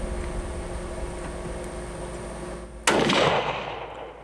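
A hunting rifle is fired once at a deer on a South Texas ranch. The single loud, close blast cuts through quiet outdoor ambience and leaves a decaying rumble behind it.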